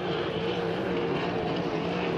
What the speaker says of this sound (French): que c'est la puissance du moteur de Rousse